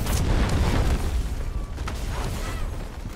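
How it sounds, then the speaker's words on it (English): Heavy booms from an artillery barrage in the video game Delta Force: Hawk Ops rumble close and loud, rolling into one another with a deep, sustained low-end thunder that slowly eases off. "Artillery cover coming."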